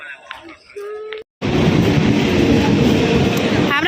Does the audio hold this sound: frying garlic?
no